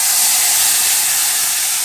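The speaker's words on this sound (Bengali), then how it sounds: "এবার আমি এটা এই কড়াইয়ের তেলের মধ্যে দিয়ে দিচ্ছি" Spice paste hits hot oil in a wok, giving a loud, steady, broadband sizzling hiss that runs close and unbroken for the whole moment, with no talking.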